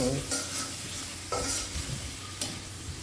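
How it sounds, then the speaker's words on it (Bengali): Prawns sizzle steadily in a hot pan while a spatula scrapes and stirs them in several distinct strokes, close and clear with no talking. "আমি চিংড়ি মাছ ভুনছি"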